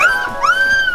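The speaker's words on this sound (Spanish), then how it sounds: "esos perros pequeños. Ya están peleando." Small dogs yelp and whimper in high, wavering cries close by, one long rising whine carrying through most of the moment during a scuffle between them.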